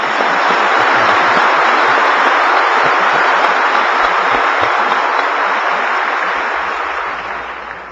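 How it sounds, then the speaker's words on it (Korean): A church congregation applauds together in a loud, dense, steady roar of clapping that holds for several seconds before tapering off at the end. "하나님께 박수 한번 합시다."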